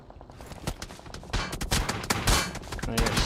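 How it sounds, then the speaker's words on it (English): Gunfire in PUBG Mobile during an esports match, with rapid bursts of automatic shots and scattered single cracks rising in intensity, mixed with distant reports and some background noise. "Shots have been fired from Team 10 on the Gods of War"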